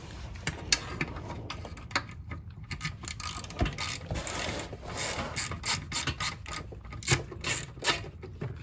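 A 10 mm ratchet clicks steadily in short bursts while backing out a transmission pan bolt on a 2005 Lincoln Town Car's Ford 4R70W automatic, with faint metallic rubbing between the runs of clicks.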